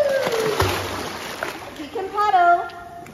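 A 22-month-old toddler kicking and paddling in a swimming pool, making a few light splashes and sloshes at close range, with an adult voice talking over the water.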